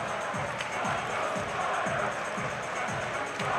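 Dense basketball arena crowd at a nearly sold-out Cincinnati–Dayton college game, a steady loud roar with rhythmic chanting pulses, student section booing blended into the din throughout.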